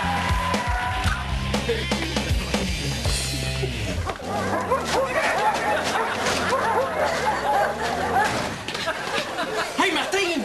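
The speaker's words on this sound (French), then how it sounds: "Martin, il y a une vingtaine de chiens fous dans l'appartement!" Several excited dogs in an apartment yip and bark over a busy mix of people talking and music, their barks blending into a dense, chaotic clamor throughout.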